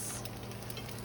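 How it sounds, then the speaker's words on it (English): Eggs fry sunny side up in a pan with a continuous soft sizzle and light crackles, close and steady, with no voices. "frying some eggs"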